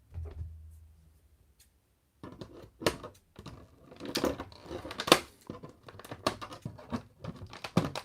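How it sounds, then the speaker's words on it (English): Strings holding the ankles of a NECA Gargoyles Goliath action figure are cut. Close, quiet snips and crinkly plastic rustling follow a short silence. "he's got these little strings here holding his ankles in place. And let's just cut those off."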